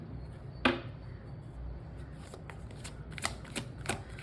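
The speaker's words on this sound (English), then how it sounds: "I just need a moment to focus and just shuffle the cards" Tarot cards being shuffled by hand, with a sharp riffle-like burst early on, then soft papery slides and several crisp flicks spaced through the quiet stretch, no talking.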